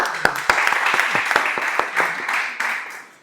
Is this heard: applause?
yes